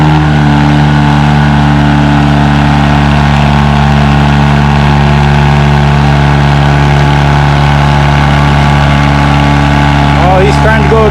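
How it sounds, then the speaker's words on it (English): A John Deere 435 tractor with a two-stroke Detroit diesel pulls a sled at a tractor pull event, its engine roaring loud and steady with strong droning harmonics, an announcer talking over it. "next on the sled we have a John Deere 435. The 2-stroke Detroit diesel."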